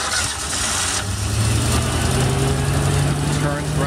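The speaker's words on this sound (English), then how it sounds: "I'm gonna power up all the equipment for you to see that it's running and operating." A dump truck's engine starts and settles into a steady mid-pitched idle, loud and close, with its hydraulic equipment running alongside.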